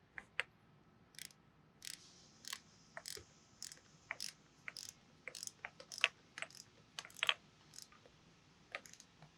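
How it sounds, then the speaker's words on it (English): A torque wrench tightens bolts on an HXL series pump to specification, with scattered sharp ratcheting clicks and metallic ticks in irregular bursts, close but fairly quiet against a hushed workshop background. "Now we're going to go ahead and torque them to specification."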